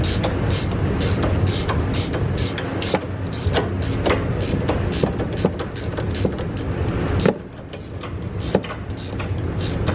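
Rapid, steady ratchet clicking on a sway bar link nut of a 2013–2019 Nissan Sentra, loud and close, running continuously with a brief pause near the end.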